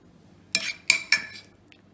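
Two metal spoons clink three times in quick succession while stuffing a vegetable mix into an eggplant, bright close-up taps with a faint scrape afterward.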